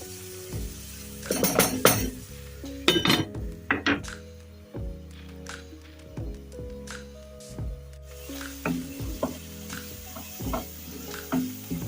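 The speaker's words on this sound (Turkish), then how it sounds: "Soğanlara biraz da tuz ekliyoruz. Ara ara karıştıralım soğanımızı." Salted onions fry in a pan while a spoon stirs them, with a steady soft sizzle broken by repeated scraping strokes and bright clinks of the utensil against the pan, and no talking.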